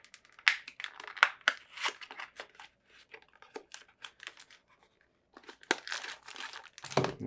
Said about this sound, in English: Here's the box that it comes in. Giant Mouse. There's no tape on it, so let's just open it up.